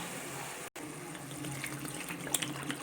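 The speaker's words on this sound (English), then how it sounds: "now to this I'm going to add water" Water runs steadily into a pot with a soft, continuous splashing, fairly close, with a brief cut near the start.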